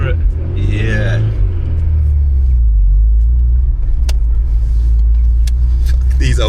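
An old Volkswagen Golf GTI engine hums and revs at around 3,000 rpm as the throttle is feathered, giving a loud steady low rumble while people talk over it at the start.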